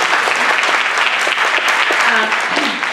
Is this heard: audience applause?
yes